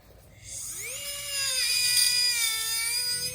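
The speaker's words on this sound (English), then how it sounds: "I'm still gonna have to grind some denture tooth" A dental lathe grinds a denture tooth, its high whine rising in pitch as it spins up and then holding steady and loud, with a faint low rumble underneath.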